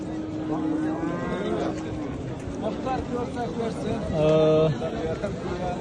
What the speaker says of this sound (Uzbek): yosh buzoqchalar